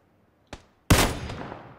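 A rifle shot in PUBG on the desert map: a faint crack followed by a loud close gunshot that rings out and decays over the next second, no talking.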